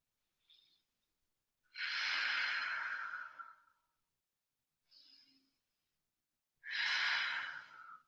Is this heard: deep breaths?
yes